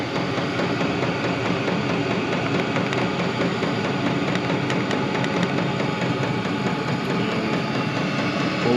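A Vevor all-in-one diesel heater gives a steady, droning mechanical hum with a low rumble, running continuously at an even level with no breaks or voices.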